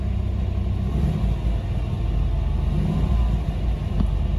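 A 1992 Chevrolet S10 pickup engine idling just after a cold start on a 25-degree morning, a steady close low rumble with slight fluctuations, no speech.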